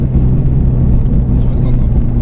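A Toyota GT86 TRD engine drones steadily during a drift session, rising and falling slightly as the throttle is worked, with speech running over the continuous engine rumble throughout.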